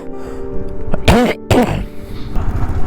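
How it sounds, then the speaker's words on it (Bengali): Two harsh, loud coughs come close together from someone unwell at high altitude on the Adi Kailash route, with quieter background noise around them. "কাশিটা হচ্ছে, কাশি হলে মাথা ব্যথা খুব যন্ত্রণা করছে।"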